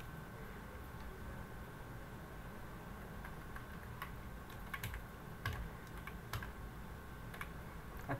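Quiet, irregular keyboard typing while entering Java code on a computer, sparse clicks and short bursts of keystrokes over a faint background hum.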